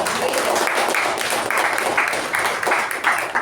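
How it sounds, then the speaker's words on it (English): Dense applause from a Toastmasters club audience, a continuous wash of many hands clapping at an even level throughout, with no voices over it. "can we have a huge round of applause for Toastmasters Sindhushree"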